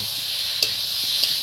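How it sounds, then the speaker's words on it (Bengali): Elephant foot yam curry (ol dalna) sautéing in a pan gives a steady close hiss, broken by two brief scraping stirs about half a second apart. "আর এটা এরকম একটু কষাতে হবে, ভালো করে কষিয়ে কষিয়ে রান্না করতে হবে"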